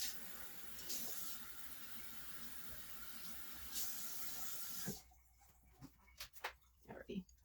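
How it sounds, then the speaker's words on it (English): Water runs steadily into a container for leaf-plant propagation in LECA, a continuous hissing pour that stops abruptly halfway through, leaving faint clinks and handling noises. "So now I'm just gonna fill this guy up most of the way with water."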